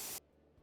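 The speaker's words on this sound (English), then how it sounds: "Spray it up." A spray can painting a Valmora cabinet in the game Junkyard Builder gives a short hissing burst of about a fifth of a second, then stops abruptly into near silence.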